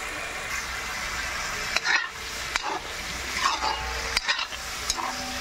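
Chicken with meat masala frying and being stirred in a pot at home, a steady close sizzle with scraping spoon strokes and a few sharper clanks against the pot.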